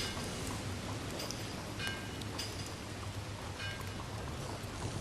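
Steady rain falling in Red Dead Redemption 2, a constant even hiss of drops with faint scattered ticks, unbroken throughout.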